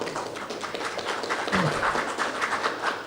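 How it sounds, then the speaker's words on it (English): Audience at a lecture on Africa and Marxism claps together in broad, steady applause lasting the whole stretch, with a short low murmur partway through. "please give yourself a clap"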